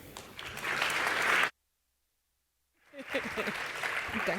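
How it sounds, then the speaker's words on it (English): Audience applause welcoming two speakers onto a conference stage at a business talk, a dense steady clapping wash that cuts off abruptly, falls silent, then resumes just as full. "Please welcome, with a warm round of applause, Sandra Hinz and Rainer Collet."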